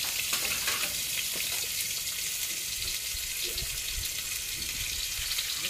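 Chopped onions hiss and sizzle in hot oil for a dried fish curry, a dense, steady frying crackle with occasional stirring clinks, close and continuous with no talking.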